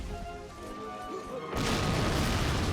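A sudden explosion in a Men of War battle, a loud booming crash that bursts in midway after a quieter stretch and then roars on as a thick rumble.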